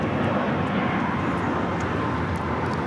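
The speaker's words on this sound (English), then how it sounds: "1219 taking off to Seattle on the MAX 9." An Alaska Airlines Boeing 737 MAX 9 taking off from LAX for Seattle, a loud, dense, continuous engine roar filling the short stretch with no voices.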